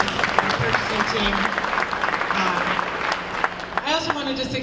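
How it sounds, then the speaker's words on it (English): Audience applause at a business opportunities breakfast honoring a purchasing team, a crackling, uneven patter of clapping with people talking through it. "Round of applause again for Penny Owens, our purchasing team."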